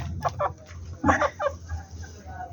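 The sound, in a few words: rooster crowing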